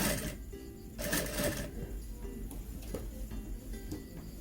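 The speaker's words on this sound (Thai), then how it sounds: "เย็บวนไปจนรอบชายเสื้อนะคะ จากข้างซ้ายไปข้างขวาเลย" A sewing machine stitches fringe trim onto the hem of a long coat, a steady fast mechanical whir with rattling needle strikes, close and continuous.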